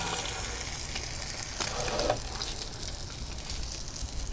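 Egg and sausage sizzle steadily on a grill, a dense, continuous close-up crackle and hiss that holds at an even level throughout, with no voices.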